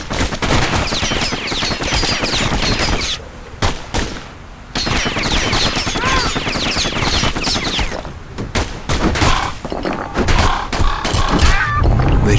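Rapid, dense gunfire from enemies in the game Bastion: loud continuous volleys of shots with brief pauses, layered over game music and effects.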